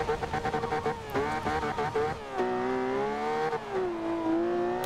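A Ferrari LaFerrari in the racing game Forza Horizon 2 revs hard and loud, its engine note climbing and dropping through gear changes as it accelerates, heard from inside the cabin without speech.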